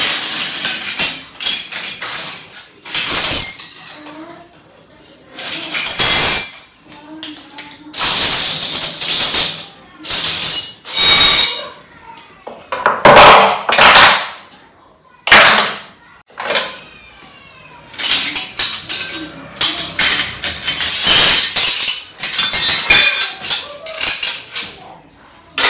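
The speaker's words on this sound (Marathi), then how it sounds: "हा, तर आता चमचे ठेवून देऊ आपण सगळे." Metal spoons are dropped and set into a kitchen drawer organizer in repeated bursts of bright clinks and clatters, close and loud, separated by short pauses.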